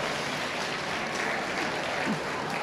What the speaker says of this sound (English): give these young folks, the breeders alike, and the exhibitors a nice round of applause